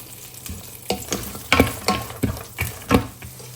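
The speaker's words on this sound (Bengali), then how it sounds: "প্রথমে আমি এই ঘিতে এই বাদামগুলো ভেজে নিই" Nuts frying in hot ghee on an electric stove, with a steady close sizzle broken by irregular louder scraping stirs against the pan.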